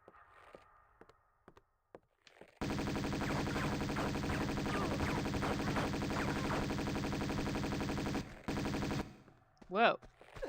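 Rapid Uzi fire in Tomb Raider II, in the Venice Opera House level: a loud, unbroken automatic burst runs for several seconds after a quiet start, then cuts off, with a brief voice near the end.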